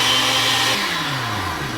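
Countertop blender whipping a pina colada protein shake, a steady loud motor whir with a slight pitch drop partway through, alone with no voices.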